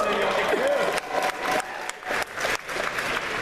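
Audience cheering and applause at a Comic-Con 2014 panel, a broad crowd roar with voices mixed in, loud and continuous through the moment with brief dips.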